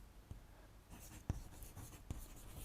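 Pen strokes on paper or a board while writing out a combinations problem in a math lesson, with soft scratchy marks and a few sharper taps, quiet and close.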